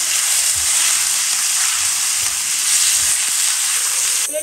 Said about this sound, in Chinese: 锅里油热，下入腌好的肉， 大火翻炒半香，